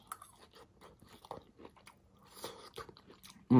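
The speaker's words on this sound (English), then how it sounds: "They still got the crunch." Close-up crunchy chewing of sautéed zucchini, squash and red onions: soft, irregular bites and mastication sounds near the microphone, with a louder thump at the very end.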